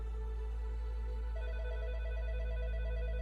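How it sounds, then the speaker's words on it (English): A telephone rings indoors with a steady electronic trill that comes in close and repeats evenly without pause. A low hum runs underneath throughout. "his phone rang"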